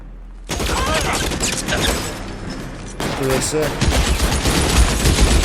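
Dense bursts of gunfire in the video game L.A. Noire, sustained rapid shots from about half a second on with a brief break near three seconds, loud and close with a voice faintly under it.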